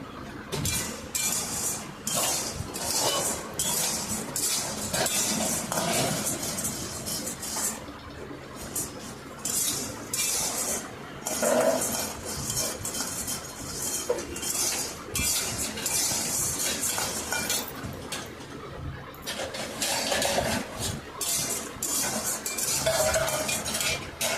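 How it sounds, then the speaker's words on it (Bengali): Wheat grains being stirred while dry-roasting in a pan at home, with continuous scraping and rattling of a utensil against metal, steady and close, broken by brief pauses and occasional clinks. "এটা সমানে নাড়াচাড়া করতে হবে, নাহলে গমগুলো পুড়ে যাবে"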